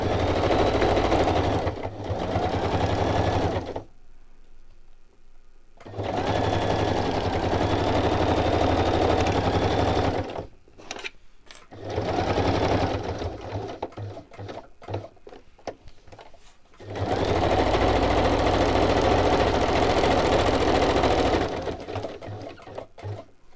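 A sewing machine stitches around the edges of paper pages, running in several long, steady, whirring bursts of rapid ticking stitches, close by, with short pauses and a few quick stop-start stitches between them.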